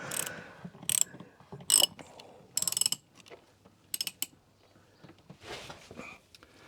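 Ratchet turning a bolt in the engine bay of a Mercedes 300E W124, several short bursts of quick clicking separated by quiet pauses, close and fairly faint.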